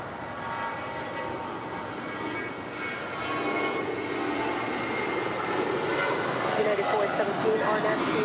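Airliner starting its takeoff roll on runway 25 right at Los Angeles International Airport, a distant jet engine roar that builds gradually and grows louder toward the end, with faint radio-style talk around it.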